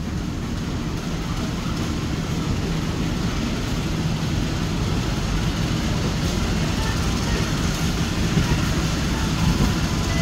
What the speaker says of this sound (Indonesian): kereta api melintas langsung